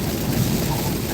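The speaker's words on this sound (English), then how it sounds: "Once we get out of the torrential downpour" Torrential downpour during a tornado chase in North Florida and southern Georgia: a loud, steady, dense roar of heavy rain with no break, filling the whole moment.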